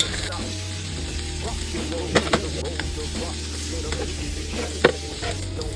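Lamb and red peppers stir-fry in a pan for cumin lamb, with a steady sizzle and a low hum underneath, punctuated by a few sharp clinks and scrapes of the spatula.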